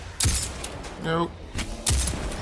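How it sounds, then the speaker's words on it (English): Exploding barrels in a video game go off in two heavy, booming blasts about a second and a half apart, with a short ringing burst between them. "Exploding barrels."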